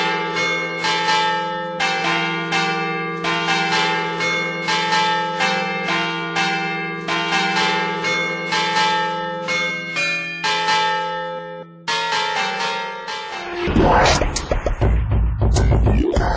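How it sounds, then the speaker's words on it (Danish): Bells ring in a steady repeating peal, loud and close with long ringing overtones and a droning hum beneath, before the pattern breaks off into a burst of noisy clatter near the end. "Så er der klokker."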